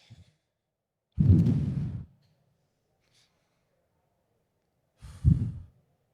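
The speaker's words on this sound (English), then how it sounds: "Can you take some deep breaths for me, sir?" Two deep, audible breaths close to the microphone, a long heavy exhale followed after a quiet pause by a shorter second one.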